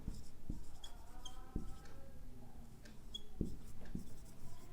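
Chalk or marker strokes scratching across a board in a physics lecture on ray optics, a steady run of short scraping marks with a few sharp taps, fairly close and without talk.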